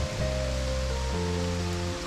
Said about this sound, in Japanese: いい感じでね、雨が強くなってまいりました。